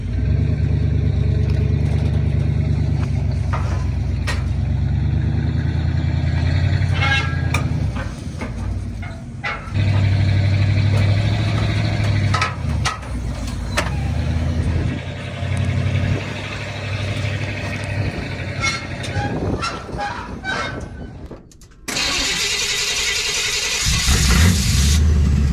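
A square-body truck with a transmission that won't shift into second drives at speed. Its engine drones loud and close, revving and dipping unevenly, and near the end it turns to a harsher, hissing roar after a brief drop.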